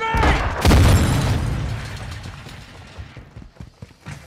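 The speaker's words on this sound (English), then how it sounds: "Tossing smoke grenade!" A smoke grenade is thrown and goes off in a military shooter game: a sharp pop and hiss early on, then scattered clanks and small impacts in a noisy battle soundscape.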